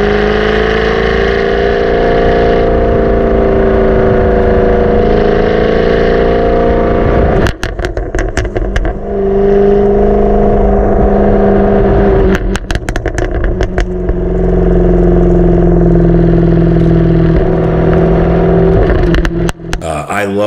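A loud Jaguar F-Type Project 7 active exhaust droning and revving steadily, with bursts of sharp crackles and pops between the revs.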